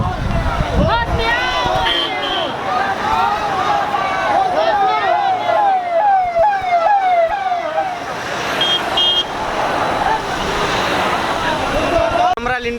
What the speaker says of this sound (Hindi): अभी हमारे सामने काफिला आ रहा है